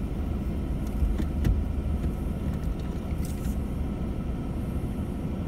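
An off-road vehicle climbs a technical bush track, its engine a low, steady rumble at a middle distance, with wind buffeting the microphone and a few faint knocks, and no talking.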